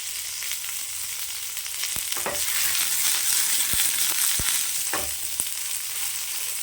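Shallots and poppy seeds fry in oil in a pan for a potato gravy masala, a steady close sizzle with a few sharp stirring knocks, no voices.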